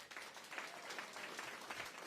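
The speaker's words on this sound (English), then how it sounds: "So give him a big round of applause." Crowd applause at an affordable housing ribbon cutting on Stanyan Street, honoring the mayor: steady, dense clapping from a gathered audience, continuous and fairly even for a couple of seconds with no talking over it.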